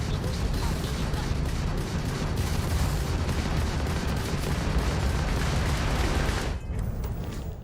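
Missile fire from a ship in Starfield comes as a continuous loud roaring barrage of rapid blasts, steady throughout before easing near the end.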